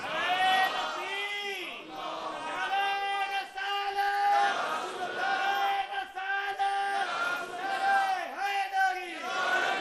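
A large crowd chanting religious slogans in unison at a gathering, loud repeated rhythmic call phrases rising and falling in waves across the whole stretch, voices blended together with no single speaker.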